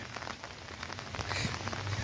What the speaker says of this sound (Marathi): एवढा पाऊस लागतोय नाही